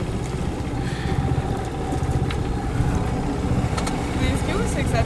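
A sailboat motoring under engine power on the open sea between Martinique and French Guiana, a steady low engine drone mixed with wind and water noise, continuous and close, with faint voices in the background.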